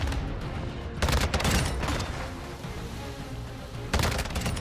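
Gunfire in Modern Warfare 2 from a TAQ V rifle build: bursts of rapid shots, one near the start and another near the end, loud and sharp over a low background rumble.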